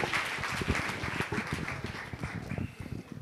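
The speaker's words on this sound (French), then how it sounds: "Des applaudissements pour M." Audience applause for a speaker at a civic integrity forum in Guinguinéo, steady close clapping from a room of people, fairly dense and even throughout.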